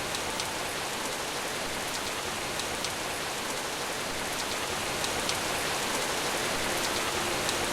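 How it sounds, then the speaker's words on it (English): Steady rain pours over a city in a video game scene, an even, hissing wash of drops on surfaces that holds constant and close throughout, with no voices. "Rain that fell upon the city was cold and clear."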